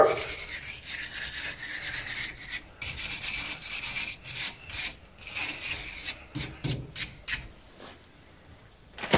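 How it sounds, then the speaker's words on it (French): Wire brush scrubbing the front brake hub of a Renault Mégane 2 1.5 dCi during a disc change, a close, rough rasping in quick repeated strokes with brief pauses, no talk. "Donc on va mettre un coup de brosse"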